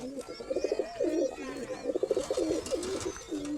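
Pakistani pigeons, a paired hen and cock, coo in repeated throaty rolling phrases close by, with faint chirps and background noise around them.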